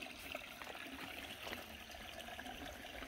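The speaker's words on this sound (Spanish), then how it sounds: "Está bueno este nacimiento de agua aquí" A natural water spring flows steadily outdoors among trees, a soft, continuous trickle and gurgle heard alone at low level.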